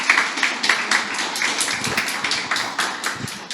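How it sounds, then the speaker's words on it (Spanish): Scattered live audience applause welcoming couples and families, steady broadband clapping with irregular individual claps standing out, moderately near. "Un aplauso para ellos, por favor."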